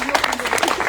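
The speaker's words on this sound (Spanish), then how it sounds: "le damos el aplauso de bienvenida a Maki o a Julio" An audience at a book launch in Berlin claps to welcome a speaker, a brief, dense burst of applause with voices mixed in.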